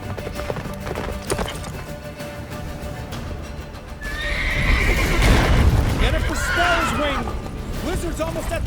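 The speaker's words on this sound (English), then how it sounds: "Faster, Roach. Don't stop" Game horse in The Witcher 3 neighs and whinnies while galloping hooves clip-clop, loud and close, over a bed of music and game effects as a voice speaks.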